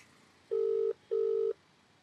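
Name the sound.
phone call ringing tone on speakerphone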